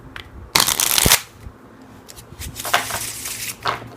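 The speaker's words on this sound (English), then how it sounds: "bend and release, and the cards will shuffle up themselves" A deck of playing cards riffle-shuffled by bending and releasing so the cards shuffle themselves, giving two loud fluttering bursts of rapid card slaps separated by a brief pause.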